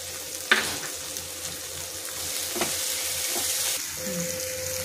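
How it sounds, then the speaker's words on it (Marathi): Chopped tomato sizzling in hot ginger-garlic paste in a pan, with a steady frying hiss and a few sharp stirring clinks, close and moderately loud. "आता आपण टोमॅटो घालून घेऊया।"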